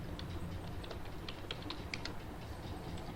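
Computer keyboard typing while entering grades into an Excel marksheet, scattered soft key clicks in an irregular rhythm over a steady low room hum, no talk.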